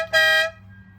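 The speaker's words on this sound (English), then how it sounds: "The customer also brought us a little horn kit to put on." One short, loud blast from an aftermarket horn kit fitted to a CFMOTO UFORCE 600 side-by-side, close by, a bright steady tone cut off abruptly over a low idling rumble.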